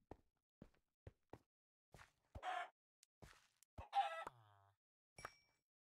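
Chickens cluck in Minecraft on a CubeCraft SkyBlock island, with sparse soft clucks and a couple of louder squawks among quiet clicks and game sounds, no talk.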